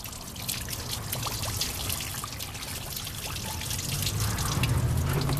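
Steady trickling, gurgling water runs continuously and close by inside a 1997 Volkswagen Jetta engine, growing slightly louder and fuller toward the end, with no voices.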